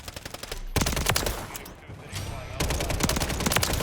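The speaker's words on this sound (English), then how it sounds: "they're all shooting each other because of the EMP" Gunfire in Call of Duty: Modern Warfare III, rapid automatic bursts in a dense crackling fusillade, loud and close, broken by brief gaps and rumbling blasts.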